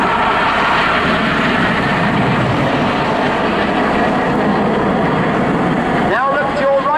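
Aircraft flying at the Sunderland Airshow in 2014: a steady, loud engine drone fills the whole stretch under a voice, with a rising whine near the end.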